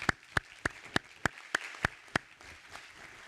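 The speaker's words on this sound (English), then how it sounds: "Now you can applaud this great panel." A few slow, separate claps ring out at a regular pace from an audience at an opioid and addiction coalition symposium panel, each one sharp and fairly close over a quiet room.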